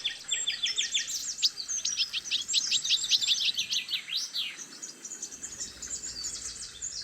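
Songbirds such as common nightingales, chaffinches, European robins and goldfinches sing together in a busy dawn-chorus blend of rapid trills and chirps, fairly close, with a soft insect-like background hiss throughout.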